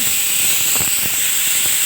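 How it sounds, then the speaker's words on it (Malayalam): Pressure cooker whistle while cooking dal curry on a gas stove, a loud, steady high-pitched steam whistle mixed with broad hissing, continuous for the full couple of seconds. "കുക്കർ വിസിൽ വന്ന്"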